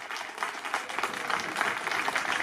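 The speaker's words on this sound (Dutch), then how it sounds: "En als we toch even lekker klappen," Walkers at a night walking event in Nieuwehorne clap together outdoors, a fairly faint, steady patter of many hands that stays even from start to finish.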